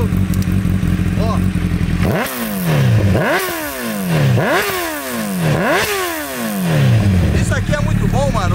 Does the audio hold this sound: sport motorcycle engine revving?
yes